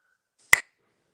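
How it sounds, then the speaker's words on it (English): A single crisp finger snap rings out close and loud in an otherwise silent moment. "snap your fingers"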